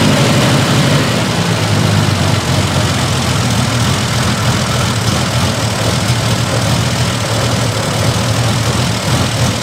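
A 1968 Triumph TR250 engine idles steadily while warming up, a constant low rumble with a broad mechanical hiss that holds at even, fairly loud level throughout with no talk.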